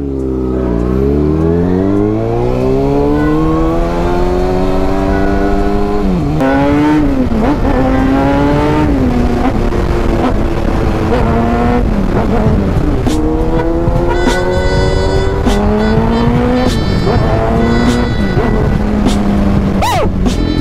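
A Kawasaki Ninja ZX6R motorcycle engine, already warm, revs up loudly nearby, its pitch rising and falling through repeated throttle blips over a steady idle, with no talk.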